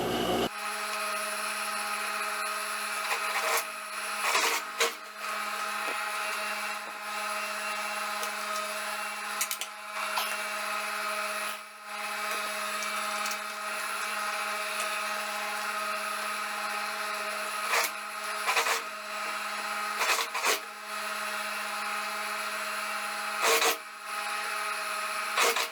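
A sewing machine stitches the armhole seam of a long wrap dress to its lining, giving a steady, close motor whir that runs almost without break, with a few short dips where the stitching pauses.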